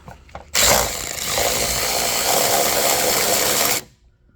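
An electric ratchet spins a 10mm bolt out on a Chevrolet Equinox during headlight bulb work, giving a steady, close whirring buzz that runs for about three seconds before cutting off, with no talking.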